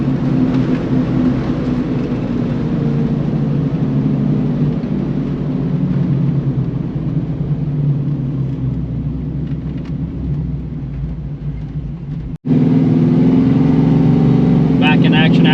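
Steady engine rumble and road roar from a Squarebody truck cruising a two-lane highway and passing traffic, continuous and loud, with a brief dropout near the end before the drone resumes.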